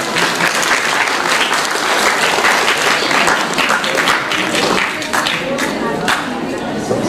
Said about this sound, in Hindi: कमलेश सेन साहब के लिए जोरदार तालियां हो जाए।